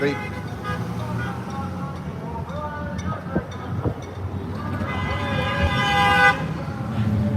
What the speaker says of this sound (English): Is that the bus honking at me?